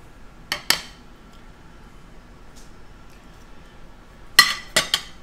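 A metal steak server clinks against a dish for steak au poivre, two sharp close taps early on, then a quick cluster of three bright clinks after a quiet gap.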